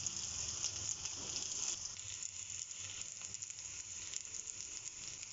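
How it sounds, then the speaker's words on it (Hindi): Potato cutlets fry in hot oil, a steady bright crackling sizzle with dense tiny pops that holds at an even, moderate level throughout, heard alone without speech. "और इन्हें दूसरी साइड से भी अच्छे से फ्राई कर लें।"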